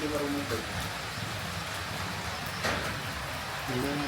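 Rain falls steadily at an outdoor amusement ride area by a ticket booth, a soft continuous hiss of drops, with a few faint voice-like tones in the background.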